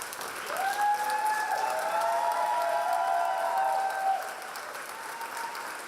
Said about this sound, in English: So please, Narain, why don't you stand and we can give you a warm round of applause.